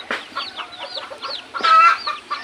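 A female labuyo, a wild junglefowl hen, clucks in a close, lively series of short calls with one longer, louder squawk near the end, heard alone without voices.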